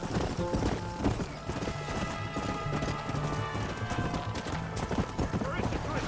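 Horse hooves clip-clop steadily at a gallop in the Western video game Red Dead Redemption, a continuous rhythmic pounding with occasional whinnies, over a music score and shouted voices.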